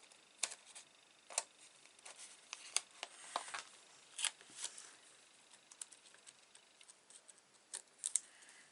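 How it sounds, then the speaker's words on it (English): Scissors snipping paper strips for a vintage steampunk half album, a scattered run of faint, sharp, close cuts at irregular intervals over a quiet background. "I'm going to cut them strips up to"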